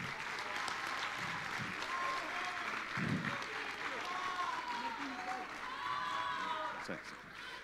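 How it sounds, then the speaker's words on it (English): Audience applause rounds out an event, a steady wash of clapping from a crowd that holds at full strength for about seven seconds before starting to taper, with some murmured voices mixed in. "a round of applause to the group Inclusica"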